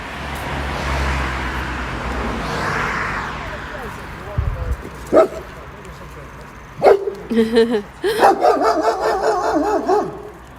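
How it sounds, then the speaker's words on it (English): A dog barks in short bursts on a street in Ozorkow, Poland, with a few isolated barks followed by a rapid run of barking, all over steady traffic and roadway hum. "There's another doggy."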